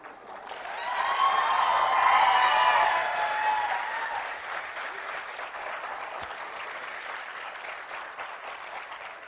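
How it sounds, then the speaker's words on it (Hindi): An audience at a motivational talk applauds, swelling to a loud, dense peak early on, then tapering to a softer sustained patter. "जो 10-20 कुर्सियां खाली हैं उनकी ताली भी आप ही बजा दो।"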